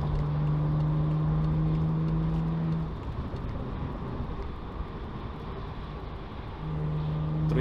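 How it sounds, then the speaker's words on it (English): A BMW 535i F10 with a muffler delete cruises with a steady low exhaust drone. A faint humming tone fades out midway and then returns, with no talking heard. "Now I hear the exhaust, and it sounds awesome."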